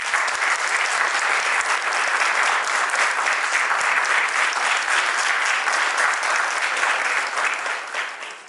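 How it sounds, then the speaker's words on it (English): A large audience at a community engagement event claps steadily to welcome the Minister of Jal Shakti, loud dense applause that holds for several seconds and fades slightly at the end. "I request all of you to please welcome him with a round of applause."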